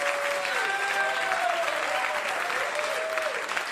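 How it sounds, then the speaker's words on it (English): A comedy club audience claps at a stand-up show, a sustained dense round of applause with some cheering and voices rising through it. "Don't clap."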